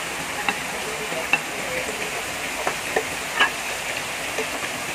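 Potato pieces fry in oil for pork afritada, giving a steady sizzle with repeated sharp scrapes and clicks of a spoon stirring in the pan.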